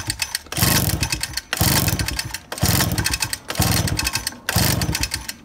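Five rhythmic recoil pulls crank a 2002 Suzuki LT50 quad engine with a machined high-compression head and no gasket during a compression test, each a loud close chugging burst separated by brief gaps.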